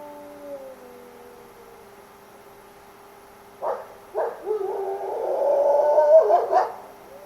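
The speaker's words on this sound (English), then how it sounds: "bark howling is a threat display typically done by the pack leaders when there is something that's threatening his pack" A wolf pack leader in an enclosure gives a threat-display bark howl: a few short gruff barks followed by a rising, wavering howl, moderately distant over a quiet background.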